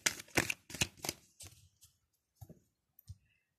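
Tarot cards being shuffled, a few close crisp riffles and clicks at the start, then sparse softer taps of cards being handled and set down.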